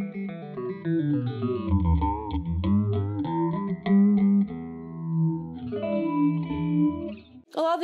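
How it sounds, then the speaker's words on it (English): A clavinet runs through a dirty, distorted phaser effect from a MoogerFooger plugin bundle. Its gritty notes sweep and swirl in a slowly wandering melodic line, moderately loud, with no talking. "Dirty clavinet phaser"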